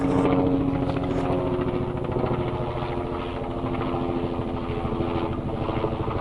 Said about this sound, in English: Bit of helicopter activity.